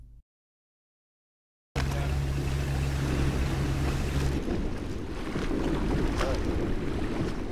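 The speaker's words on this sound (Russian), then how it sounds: "Едем на лодках" Boats moving in ArmA 2 with the ACE mod: after a brief silence, a steady motor drone with a humming engine tone and rushing water and wind noise rises and holds throughout.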